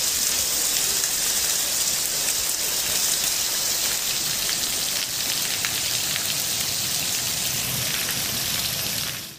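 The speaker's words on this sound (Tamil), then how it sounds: "சிறுவில்லிபுத்தூர் சுற்றுவட்டார பகுதிகளில் இடி மின்னலுடன் கனமழை கொட்டியது" Heavy rain pours steadily around Srivilliputhur during a storm with thunder and lightning, a dense, loud, unbroken hiss that continues alone for the whole stretch and stops abruptly at the end; no distinct thunderclap stands out.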